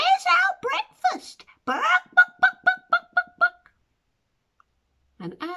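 Hens clucking in a farmyard are imitated by a storyteller's voice: a run of about seven quick, evenly spaced clucks, close and clear, following a stretch of speech.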